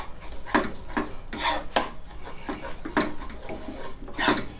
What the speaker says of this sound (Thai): เดี๋ยวเบสผัดซอสตัวเนี้ยให้เขาละลายก่อนนะครับ